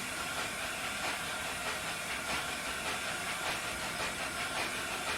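Steam locomotive in a train simulator game giving off a loud, continuous hiss with a broad rushing roar as it labours to accelerate, steady throughout with faint rhythmic chuffing pulses underneath.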